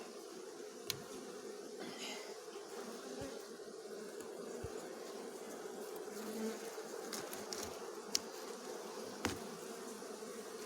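A steady, dense buzz of many Buckfast honey bees swarming close by, with a few faint clicks and knocks over the droning hum.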